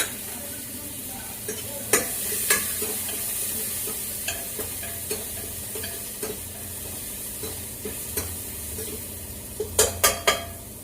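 Onions frying in a pan until brown, a steady low sizzle running throughout with occasional stirring scrapes and a few sharper utensil clinks near the end.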